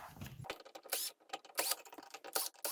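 A screwdriver backs out the screws on an electrical outlet being replaced, giving close, quiet ratcheting clicks and scraping in quick irregular bursts.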